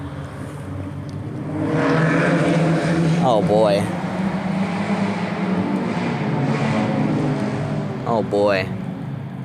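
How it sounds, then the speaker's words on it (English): Loud vehicle engines roar past outside at night, a sustained engine drone rising and falling with two brief revving sweeps, while a person speaks over it. "I used to like the sound of loud engines, but since I hear them every few minutes, it annoys me now."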